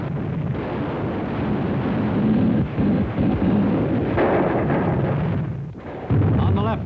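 Heavy gunfire and artillery crash through noisy WWII combat footage of Marines pushing inland from the beachhead on Palau. The blasts and rumble are dense and continuous, with someone narrating over them.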